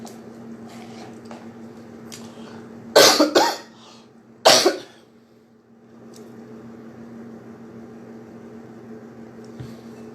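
Two sharp, loud coughs a second or so apart stand out against a steady low room hum, with quiet background noise before and after.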